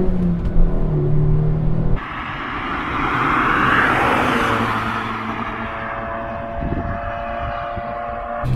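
A Suzuki Swift Sport engine revs under way, a loud, steady rumble that swells and then eases. It stays close and constant for the whole stretch, with no one speaking.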